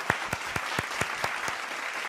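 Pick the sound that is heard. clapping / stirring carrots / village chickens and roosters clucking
clapping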